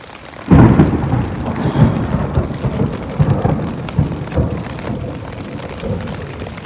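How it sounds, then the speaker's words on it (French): A nighttime thunderstorm breaks with a sudden close thunderclap, then rolling rumbles and steady rain pattering on surfaces, with several further thunder bursts swelling and fading through the downpour. "On est réveillé par la pluie, la tempête."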